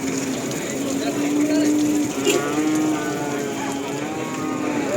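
A cow gives a long, low moo at close range at a cattle market in Tuban, Indonesia, with faint mechanical clanking and other farm noise in the background.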